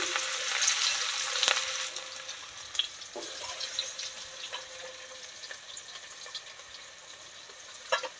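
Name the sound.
onion frying in hot oil with cumin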